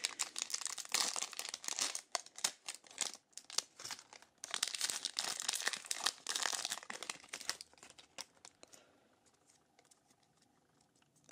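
A Pokemon TCG Burning Shadows booster pack's foil wrapper is torn and crinkled open up close, with dense bursts of crackling for about eight seconds before it settles into quiet.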